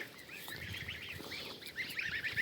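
A flock of geese honks and cackles continuously at moderate distance, overlapping calls forming a busy, steady chatter.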